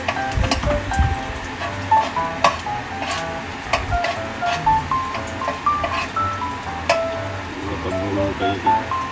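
Garlic, then onion, sautéing in a pan for pansit: a steady sizzle with clinks and scrapes of stirring throughout, close and fairly loud, with music playing in the background.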